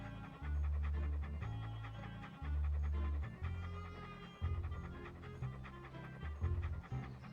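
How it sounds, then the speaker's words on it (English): A dog in Monkey Island 2: LeChuck's Revenge pants in quick rhythmic bursts, fairly close and clear, over looping game music. "Hello, little doggy."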